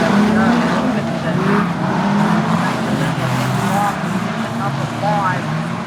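Street stock race cars roar around the Mid-Western Speedway in Darlington, engines droning loud and continuous with faint tyre squeal, while a commentator talks over the racing.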